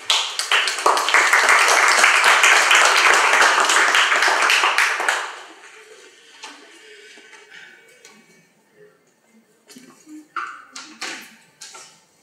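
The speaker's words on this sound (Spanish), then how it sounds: "Démosle un fuerte aplauso, por favor." An audience at a forum event breaks into strong applause that lasts about five seconds, then fades to scattered claps and small taps in the room.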